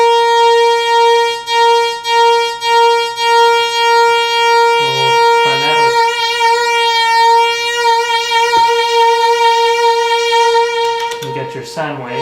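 A steady Polymoog synthesizer sine tone with a few harmonics holds throughout, briefly wavering and shifting in the middle before ending with a short burst.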